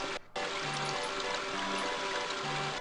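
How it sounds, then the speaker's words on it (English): A water wheel turning over a flowing stream in the video game King's Quest V, a steady trickling wash with faint low tonal notes and a brief dropout near the start, no talk. "I like this water wheel thing."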